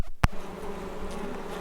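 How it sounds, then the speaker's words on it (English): A dense, continuous buzz of many honeybees in an open hive, steady and close, after a brief sharp click at the start. "look at all those bees"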